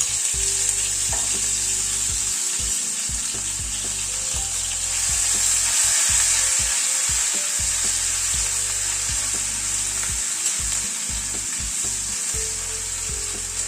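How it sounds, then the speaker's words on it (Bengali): A paste of ginger, garlic and green chili hits hot oil in a tempering, setting off a loud, steady sizzle and frying hiss, with repeated scraping stirs from a utensil throughout and no talking. "এই আদা রসুন আর কাঁচা লঙ্কার যে পেস্টটা করেছি সেটা দিয়ে দিলাম"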